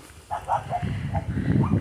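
Dogs bark at a small castle with a moat in Wales, several short, muffled barks at a moderate distance over a murmuring outdoor background.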